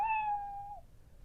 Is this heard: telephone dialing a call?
no